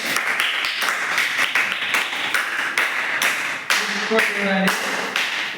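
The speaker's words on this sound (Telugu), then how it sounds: "చప్పట్లు కొట్టండి." A classroom of students claps in quick, uneven rounds, the sharp hand slaps dense and close, mixed with a few brief voices and tonal sounds near the end.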